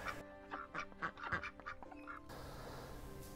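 Free-range ducks quack in a quick run of several loud, nasal calls nearby, then the calls stop and only steady outdoor noise remains.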